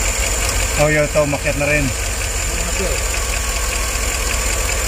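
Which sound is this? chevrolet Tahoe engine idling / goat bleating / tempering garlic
chevrolet Tahoe engine idling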